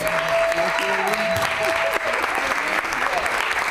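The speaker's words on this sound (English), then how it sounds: "I'm certainly not used to getting applause as I walk into the newsroom" Newsroom staff applaud as a chief meteorologist walks back in after surgery, sustained clapping from a group of coworkers with a voice and whistle-like tones rising over it.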